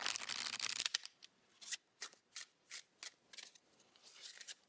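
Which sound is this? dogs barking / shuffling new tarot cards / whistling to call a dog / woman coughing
shuffling new tarot cards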